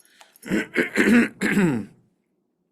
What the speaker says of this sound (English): I'm sorry about clearing my throat.